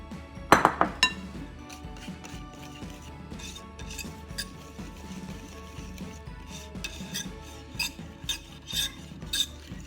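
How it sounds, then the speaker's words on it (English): A spoon mixes dry ingredients into lemon yogurt cake batter in a bowl, starting with a burst of sharp metallic clinks against the bowl, then continuing with softer scraping and occasional taps, close up and alone. "So I'm going to incorporate the dry ingredients into here. Just a little at a time."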